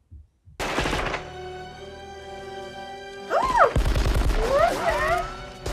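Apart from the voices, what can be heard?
gunfire in the movie Die Hard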